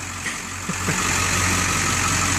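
A 2002 Ford F350 dually 4x4 Lariat with a 7.3 Powerstroke diesel idles close by, giving a loud, steady, even rumble with no voices over it.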